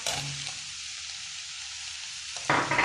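Onions frying with ginger garlic paste in a pan for Tamil egg curry, a steady close sizzle that swells louder near the end as the paste hits the hot oil.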